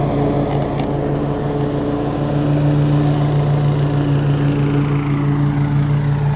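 Lawn mower engine running steadily at close range, a loud continuous droning hum with a constant low tone throughout and no talking.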